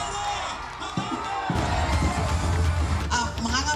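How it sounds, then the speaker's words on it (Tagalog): A crowd at a Philippine campaign rally cheers and applauds, a loud dense roar of shouts and clapping that swells after a brief dip and carries on throughout. "mainit na palakpak at sigawan!"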